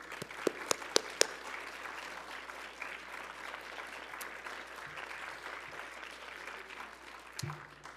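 Audience applause for interns and young people at a climate event, steady moderate clapping from a crowd with a few sharper close claps near the start, continuing evenly throughout.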